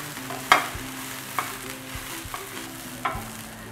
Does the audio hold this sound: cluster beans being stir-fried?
yes